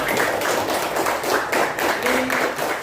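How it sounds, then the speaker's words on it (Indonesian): Classroom clapping for a group of students at an elementary school, a brief spell of close, fairly loud hand claps with a rhythmic pulse. "tepuk tangan untuk kelompok A"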